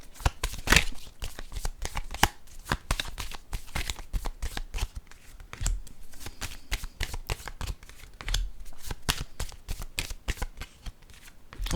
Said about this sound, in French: J'ai oublié de mélanger les cartes de mon autre jeu.